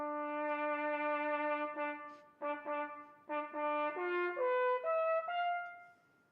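Solo trumpet plays a simplified skeleton of a 16th-note line, starting on a written E and climbing toward G, sustained clean tones in short phrases stepping upward, close and fairly soft with no voices.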